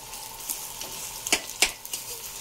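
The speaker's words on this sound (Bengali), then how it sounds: "এবার পেঁয়াজটা একটু দিয়ে দিলাম।" Chopped onions hit a pan of already fried, reddened potatoes, giving a steady close sizzle with a few sharp stirring clatters and scrapes, no talking.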